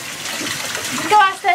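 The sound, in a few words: water running in bathtub while washing a dog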